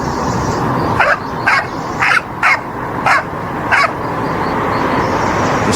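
A dog barks six times in short, evenly spaced yaps over steady background noise, loud and close, with no talking.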